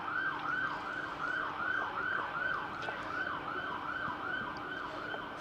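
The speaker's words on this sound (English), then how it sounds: "services vehicle making a noise rather than a car alarm" An emergency services vehicle siren wails in a steady repeating rise-and-fall pattern near an English county cricket ground, moderately distant and continuous throughout with no speech.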